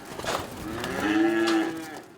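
A single cow at a busy Oklahoma City cattle market gives one long, clear moo that rises and sustains for about a second before fading, heard alone and fairly close with no talk over it.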